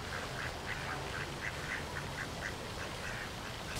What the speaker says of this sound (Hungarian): Ne etesd a kacsákat!